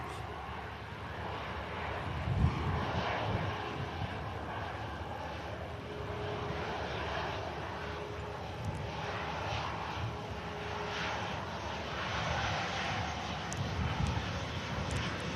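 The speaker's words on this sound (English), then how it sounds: "Virgin A350 just surfing the clouds there on the departure" A Virgin Atlantic Airbus A350 departing Manchester Airport gives a faint, distant, steady jet roar that stays low and even throughout, mixed with wind-like background noise and no talk.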